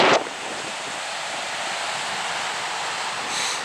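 Steady broadband wind blows across an ocean beach, with surf washing continuously underneath, loud and unbroken for a few seconds, with a slight swell near the end.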